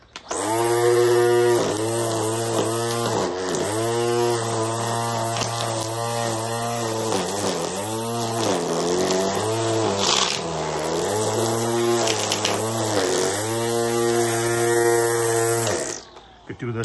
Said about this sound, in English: Let's go trim some grass.